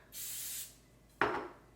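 Cooking spray hisses onto a parchment-lined cake tin in a kitchen: two quick, close bursts, a soft half-second spray followed by a sharper, louder one that fades.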